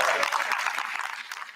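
Brief burst of dense crowd applause, moderately loud and steady, fading slightly toward the end.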